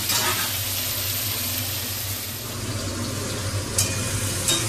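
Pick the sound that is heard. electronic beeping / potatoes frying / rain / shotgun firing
potatoes frying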